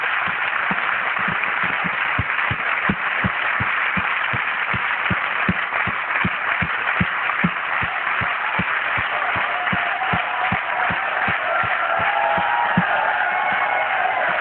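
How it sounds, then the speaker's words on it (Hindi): Crowd applause and cheering at a stage event honoring leaders, a dense, steady wash of clapping and shouts sustained throughout, with a regular thumping beat running underneath. "एक बार जरूर तालियां बजाएं।"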